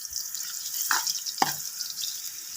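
Chopped onion frying in a pot for vegetable pulao, a soft steady sizzle with a couple of brief stirring scrapes, close and fairly quiet.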